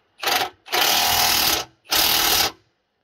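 An impact wrench tightens the rack and pinion bolts on a Dodge Ram in three loud, close rattling bursts: one short, then two longer ones, with brief gaps between them.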